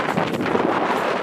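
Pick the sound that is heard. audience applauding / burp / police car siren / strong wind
strong wind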